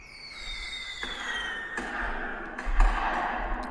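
Fireworks burst in a series of dull thumps and crackles, with broadband bangs arriving irregularly through the clip and one stronger boom near the end, moderately loud, no talking.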